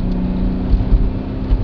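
A 2001 BMW 525d estate's 2.5-litre diesel engine revs up under acceleration, a steady loud low rumble with rising surges, heard from inside the car with no talking.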